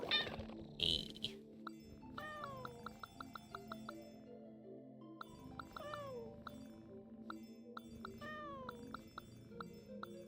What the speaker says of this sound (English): Meow meow.